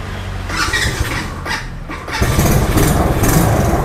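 ATV 125 Dazzle quad bike engine cranking and catching, then settling into a steady, loud, close idle.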